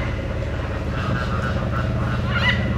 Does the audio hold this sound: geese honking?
yes